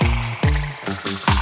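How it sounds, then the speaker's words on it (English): Several plucked, pitch-drooping twangs from a guitar pick through a dampened, filtered spring reverb, each note sliding down with a boingy, damped resonance, close and fairly loud. "The dampened filtered version by itself sounds like this, with the guitar pick."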